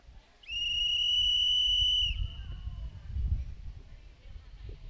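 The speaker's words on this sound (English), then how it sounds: "Long whistle." At the start of a heat at a swim meet, a long whistle blast rings out loud and steady for nearly two seconds, then a hall murmur and echoing crowd noise follow.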